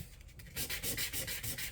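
Rhythmic back-and-forth rasping of fine sandpaper on metal guitar frets, close and steady, about six strokes in quick succession.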